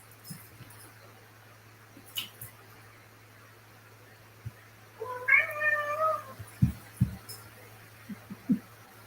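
A single cat meows once, a clear, drawn-out, rising-and-falling call at moderate distance over a steady low hum, followed by a few soft thumps and small bumps in an indoor room.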